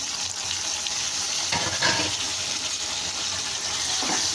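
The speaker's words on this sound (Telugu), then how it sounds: "ఇప్పుడు టమాటాలు అయితే వేసేసుకుంటున్నాను నేను" Tomatoes drop into hot oil where onions are already cooking, and a steady hiss of frying follows with a brief burst of louder sizzling and a few soft stirring scrapes.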